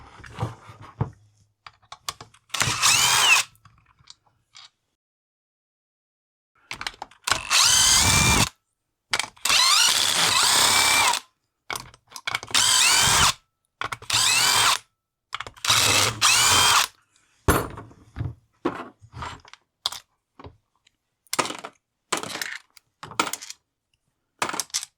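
A power drill removes screws from a Jonsered CS 2258 chainsaw in short, repeated loud whirring bursts separated by silences, close up, with small clicks of parts and tools between.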